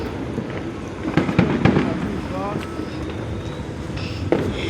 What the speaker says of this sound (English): Somebody's about to explode one.